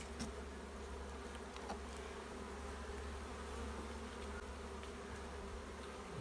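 A dense swarm of bees buzzing steadily around a log hive as honey is cut out, a continuous close drone with individual insects zipping past now and then, no voices.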